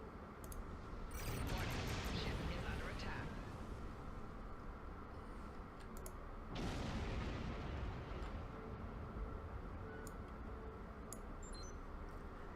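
Starship weapons fire in Star Trek Online, two heavy booming blasts a few seconds apart over a loud, steady rumbling space-battle background.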